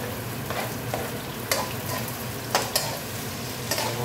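Onion and garlic fry with ginger in a pan for a string-bean adobo, a steady low sizzle broken by several sharp scraping stirs, close and fairly quiet with no talk.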